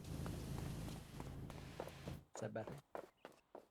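Character footsteps in PowerWash Simulator, a series of soft, evenly paced steps heard beneath a steady background hum, continuing as a person speaks briefly over them near the end.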